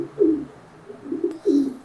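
Racer pigeons coo close by, giving three soft, throaty low calls spaced unevenly over two seconds, with a faint click between the last two.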